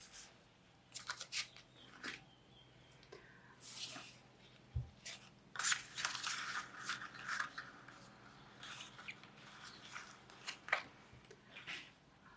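Scissors snipping scrapbook paper leftovers for card-making, with intermittent crisp cuts and rustling paper handling at close range, fairly quiet with pauses between bursts and no talk.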